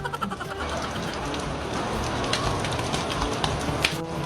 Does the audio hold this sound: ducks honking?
no